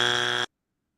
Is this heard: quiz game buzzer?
yes